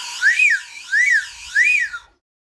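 Whistles made of cane play three rising-and-falling warbling notes in a regular rhythm, loud and clear with nothing else audible.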